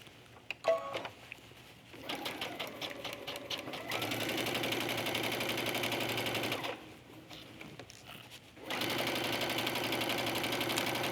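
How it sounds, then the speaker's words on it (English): A sewing machine stitches ribbon onto the base of a skirt in two long bursts of steady, close, whirring mechanical hum, separated by brief pauses and preceded by a few faint clicks and handling sounds. "when you sew the ribbon onto the base of your skirt"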